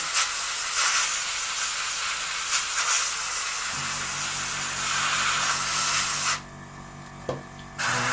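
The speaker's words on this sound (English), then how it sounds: "use a deflection angle so you don't end up spraying the white on the inside" Steady, loud airbrush hiss spraying white paint on a 1/48 Airfix Sea Vixen model kit, continuous for several seconds before cutting out, with a brief burst and low compressor hum underneath.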